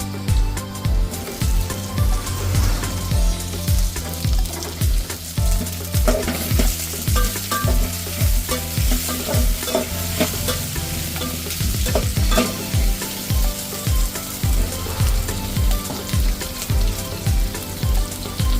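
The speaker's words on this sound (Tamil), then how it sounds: "வெங்காயம் நல்லா வதங்கட்டும்" Onions sautéing in a pan make a continuous close sizzle with rhythmic stirring scrapes and clanks throughout, loud and without voices.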